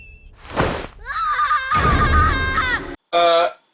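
A boy screams in an attic in a scene from the film Jumanji: loud, strained, sustained cries, then a brief pause and one last short, sharp scream.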